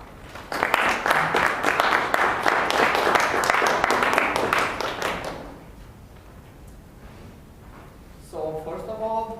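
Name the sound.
audience applause at a Toastmasters meeting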